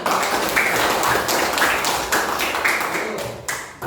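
Students in a classroom applaud, a dense, steady wash of many hands clapping together that stays loud and continuous throughout with no pause.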